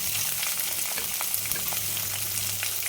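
Onions and green chillies fry in a pan for cabbage curry, producing a dense, continuous sizzle close by, with soft stirring scrapes throughout.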